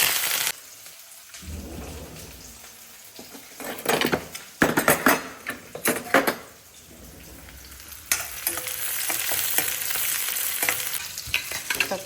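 Mustard seeds, chana dal, curry leaves, shallots and garlic crackling in hot oil, bursts of loud popping spatter and sizzle with stirring, rising to a dense steady fry near the end; no voices.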